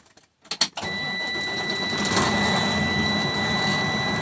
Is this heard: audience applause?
no